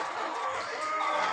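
Sick farm chickens with swollen faces cluck in a continuous, fairly close, steady murmur with no talk over it.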